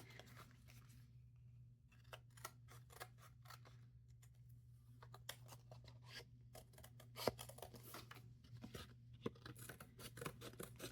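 Scissors trim loose paper ends while a junk journal is being made, giving a series of quiet, crisp snips and clicks at an uneven pace against a faint steady hum, with no talking.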